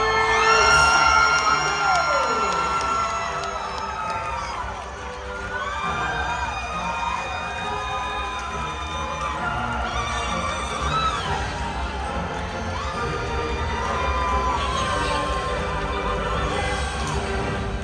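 The audience at a Medieval Times tournament show cheers for the knights with loud, sustained whoops, yells and shouts from a large crowd in an indoor arena, rising in waves over the whole stretch.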